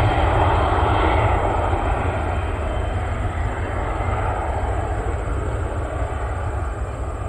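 A small plane on the runway at Spirit of St. Louis Airport, cleared for takeoff on runway 8 right, its engine roaring loud and steady throughout, with no talk.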